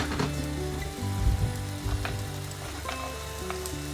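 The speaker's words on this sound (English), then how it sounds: "I'm going to turn the heat up, and onions and garlic that I had left over." Leftover onions and garlic fry in olive oil over turned-up heat while carbonara is made, giving a steady close sizzle with faint crackles over a low background hum, and no voices.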